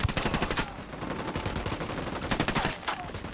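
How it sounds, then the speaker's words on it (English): Rapid automatic gunfire in the video game Ghost Recon Wildlands, dense loud bursts of close shots rattling almost continuously, with a brief lull before another burst near the end. "Opening fire."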